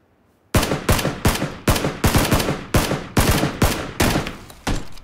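Loud, close gunshots in a shooter video game, about a dozen sharp reports fired in a steady, slightly uneven rhythm after a brief quiet start, each with a short decaying tail and no talk over them.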